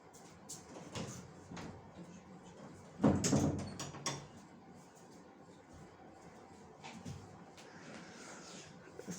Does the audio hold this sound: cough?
no